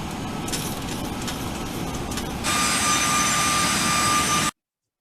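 Jet engines of a Boeing 737-800 heard from inside the cabin as the plane turns over the Arabian Sea, a steady roar that jumps louder and brighter midway with a thin whine, then cuts off.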